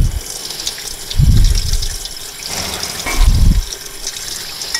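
Brake parts rinsed under running water after washing with dish soap: a steady hiss of flowing water with two louder splashing gushes, close and alone without talk.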